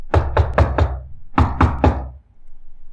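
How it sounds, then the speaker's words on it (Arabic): Knocking on a room door: two sharp, close groups of raps, four quick knocks, a short pause, then three more, followed by quiet. "سمعت باب الاوضه بيخبط"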